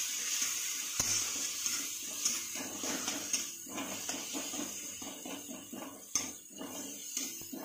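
Masala fries in hot oil in a pan with a continuous crackling sizzle, broken by scraping stirs and occasional clinks of a utensil against the pan.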